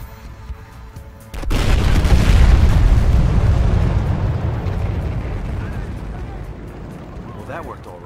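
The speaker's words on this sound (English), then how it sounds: "Secondary explosions." A heavy explosion in the video game Battlefield Hardline bursts loud and close after a quiet start, then rumbles on with crackling secondary blasts as it slowly fades.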